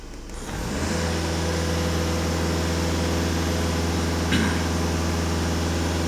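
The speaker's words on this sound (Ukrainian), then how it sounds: "даю газ в пол" A Skoda Octavia A7 2.0 TDI diesel engine is held at full throttle during DPF and EGR cleaning, a steady loud drone that rises within the first second and then holds, with a brief click near the end.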